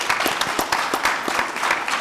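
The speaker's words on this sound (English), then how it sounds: "So, you applaud that." Brief applause from an audience at a talk on couples becoming business partners, a short burst of overlapping claps at moderate loudness.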